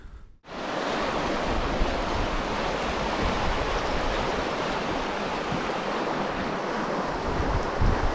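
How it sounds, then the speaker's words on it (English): Rushing water of the braided Thorofare River in Denali, a loud, steady broadband roar that fills the whole clip after a brief quiet start, with some wind noise mixed in. "Need to get across the Thorofare River."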